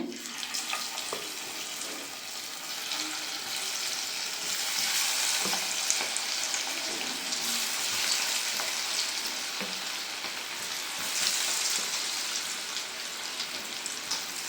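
Pieces of mutton kebab frying in hot oil give off a steady, loud sizzle that fills the whole stretch. Faint clinks and stirring noises come through now and then, and no one speaks.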